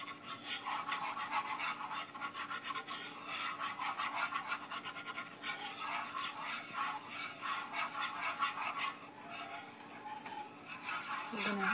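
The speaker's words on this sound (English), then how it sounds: "Whisk it so it's not so clumpy. Whisk all those clumps out." A whisk scrapes steadily through browning squash soup in a pot, breaking up clumps with quick, continuous rasping strokes at close range.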